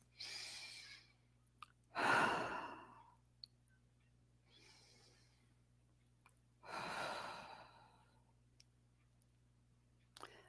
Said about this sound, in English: So let's take a couple deep breaths.